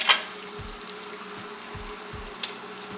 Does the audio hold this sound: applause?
no